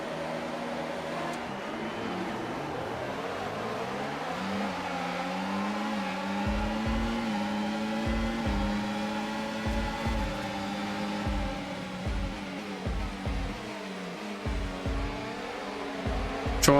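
Engines of F1 race cars at the race start in the F1 24 video game at the Hungary circuit, a steady layered roar with rising revs and repeated gear-change dips, continuous and fairly loud throughout.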